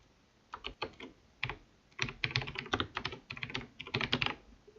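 Someone types a workspace name on a computer keyboard, producing close, quiet bursts of rapid key clicks in irregular clusters with short pauses between them.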